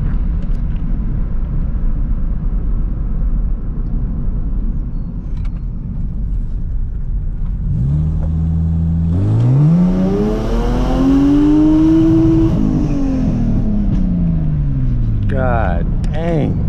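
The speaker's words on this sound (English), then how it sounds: "Let's try wide open throttle real quick." A Lexus IS300 engine pulled at wide open throttle, a low idle burble swelling into a loud rising rev that climbs, peaks and falls back, then a short second blip, close and dominant.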